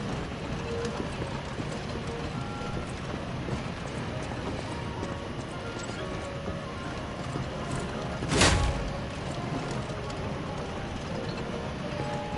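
Horses in the video game Lies of P: clip-clop hoofbeats in dense, noisy game sound, with one brief louder impact burst midway.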